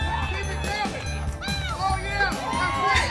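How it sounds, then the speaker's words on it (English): A crowd cheers for a woman with loud, excited shouts and yells rising and overlapping, a steady babble of many voices beneath them throughout. "They're cheering for her."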